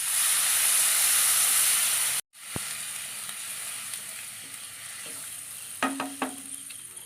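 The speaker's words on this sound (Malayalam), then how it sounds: "നമുക്കിനി കുറച്ച് വെള്ളം ഒഴിച്ച് കൊടുക്കാം" Water poured into hot spiced masala in a pan while cooking a fish curry, giving a loud steady sizzle that cuts off abruptly, then a quieter hiss with a few clinks and stirring scrapes near the end.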